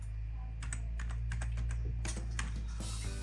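Typing on a laptop keyboard, a quick run of light key taps with one firmer final press over a steady low hum, close and fairly quiet, no voices.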